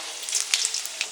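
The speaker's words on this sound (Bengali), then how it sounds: "ঝিঙে পোস্ত করার জন্য প্রথমে সরষের তেল, ফোড়নে কালো জিরে আর শুকনো লঙ্কা" Black cumin seeds and dried chillies sizzling in hot mustard oil for tempering, a bright crackling fizz with sharp spits and pops scattered through it.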